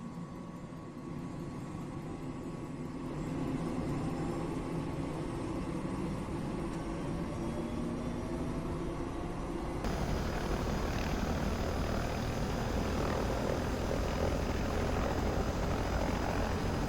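The turbine of a Hughes 500C helicopter in Microsoft Flight Simulator spools up, a steady whining roar that builds and then steps up to a fuller, louder drone.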